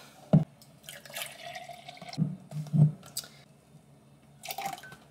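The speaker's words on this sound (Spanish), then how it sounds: "Le vamos a echar un poquito de agua." Water splashes in a few small, close drips and trickles as a little is poured during breakfast preparation in a home kitchen, with short separate bursts and no talking.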